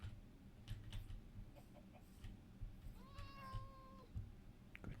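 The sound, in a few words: cat meowing in Minecraft video game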